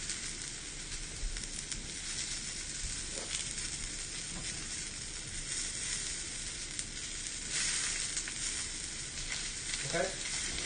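Butter sizzles steadily in a frying pan, a dense continuous crackle and hiss held close up for the whole stretch, with a few faint scrapes of stirring near the end and no voices.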